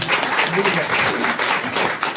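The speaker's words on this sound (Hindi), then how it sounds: "जोरदार ताली।" A large seminar audience at a network marketing talk claps loudly, dense continuous applause filling the hall from start to finish.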